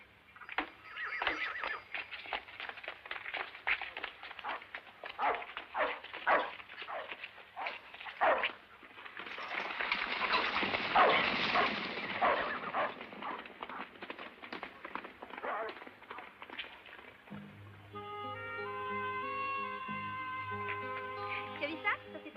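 A dog barks in short, fairly close bursts and then breaks into a long whimpering whine, heard among footsteps and scuffling in an old western film scene, with some background voices.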